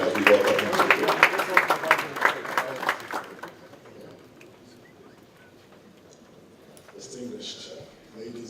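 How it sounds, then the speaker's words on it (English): An audience at a political leaders summit applauds as a speaker is welcomed to the podium. The dense clapping lasts about three seconds, then dies away to a quiet hall with faint shuffling. "Please give a round of applause going as we welcome him to the podium"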